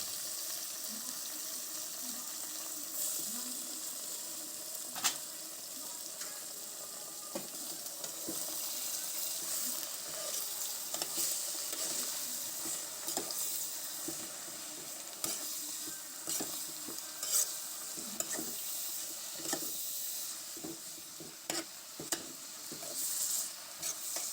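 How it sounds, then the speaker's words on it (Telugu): Washed chenchali greens being stirred into hot oil in a pan, a steady sizzle with scattered clinks and scrapes of the spoon running throughout. "ఇప్పుడు ఇందులో కడిగి పెట్టుకున్న చెంచల కూర వేసుకొని మొత్తం కలుపుకోవాలి"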